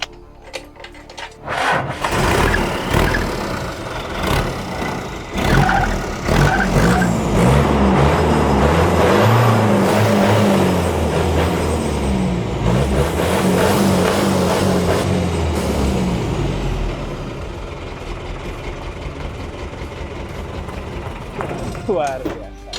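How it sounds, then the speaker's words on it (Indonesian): A Hino Dutro truck engine fitted in a hardtop roars loudly through a side exhaust, a sustained heavy rumble that swells and holds for most of the stretch, with voices talking over it. "Kita lihat dan dengar bagaimana suara raungan dari mesin Dutro di Knalpotnya"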